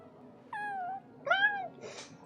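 A cat in a LEGO Batman video game meows twice, clear close calls spaced apart, followed by a fainter breathy sound.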